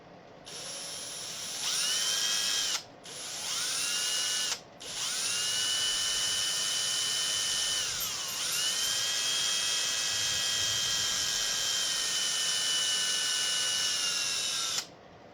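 A high, steady whine of an electric drill running close by for a long stretch, with two brief stops and a dip in pitch as it bogs down.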